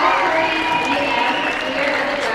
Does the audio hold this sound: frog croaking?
no